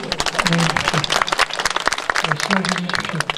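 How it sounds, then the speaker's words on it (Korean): Audience applause at a Buddhist monk drum contest as temple rankings are announced, with dense steady clapping running throughout under a voice speaking over a PA. "큰 박수로"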